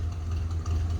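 A restored GMC truck engine idles smoothly, giving a steady, close, low rumbling hum with no revving.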